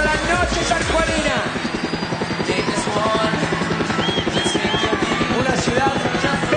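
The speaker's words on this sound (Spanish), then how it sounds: "¡El helicóptero! ¡Sobrevolando la noche sanjuanina!" A helicopter flies over San Juan city at night, its rotor chopping in a loud, steady rapid pulse from overhead, continuing the whole time with other sounds faintly mixed in.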